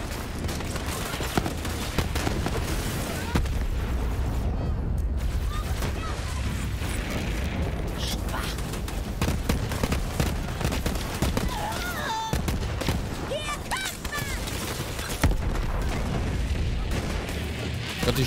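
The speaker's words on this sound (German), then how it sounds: "Fette Explosion." A Borderlands 3 explosion amid dense game combat, with bursts of gunfire and booming blasts layered under a continuous loud mix of game effects.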